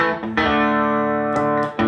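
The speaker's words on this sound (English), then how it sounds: "that's just kind of a clean boost that I have set up for a little." Electric guitar run through a clean boost pedal, sustained chords ringing loud and close with a couple of fresh strums, no voice.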